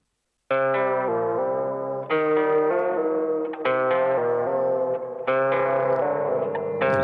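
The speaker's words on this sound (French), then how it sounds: "On rajoute une reverb" A music sample with reverb and a delay added for a roomy, cathedral-like effect: sustained harmonic chords in four phrases, each swelling in and trailing off with echoing, smeared tails, loud and up front with no talking.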